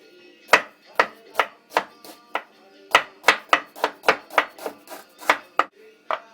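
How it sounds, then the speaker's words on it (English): A knife slices fresh ginger on a cutting board in a quick, fairly even series of about seventeen sharp, close chops, with brief pauses between short runs of strokes. "now we make a little bit of ginger, fresh ginger. And you want to slice it."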